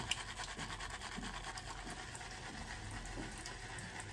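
A wet shaving brush, moistened with hot water, is worked up into lather, giving a close, soft, continuous scratchy swishing with faint rhythmic strokes.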